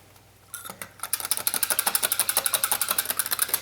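Cream of asparagus soup being whisked by hand in a pot, a rapid, even rhythm of bright tapping strokes that starts after a brief quiet moment and continues steadily.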